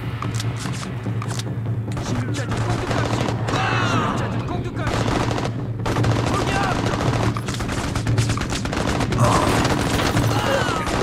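Rapid submachine gun fire in the Mercenaries video game, a dense sustained rattle amid battle noise and booms, with voices talking over the shooting throughout.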